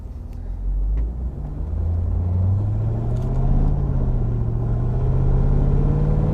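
An LS-swapped Aston Martin's V8 pulls under gentle acceleration, a deep, steady engine rumble rising slowly in pitch as it gains speed, heard close and continuous with no talk.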